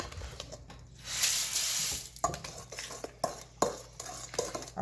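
A spoon stirring and pressing lumpy brown sugar in a bowl to break up chunks, soft gritty scraping with scattered clinks and taps, quiet and close.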